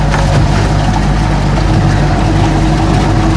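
A boat's engine drones loud and steady at close range, a deep continuous rumble with hiss, as it heads out across Paro Lake toward a floating fishing platform on a windy day.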